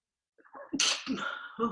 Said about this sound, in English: A sneeze is just a sneeze.